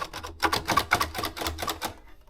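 Rapid mechanical clatter from a Maritsa 30 typewriter, a quick run of clicking keystrokes and scraping taps as the spacebar scratches its plastic, close and fairly quiet.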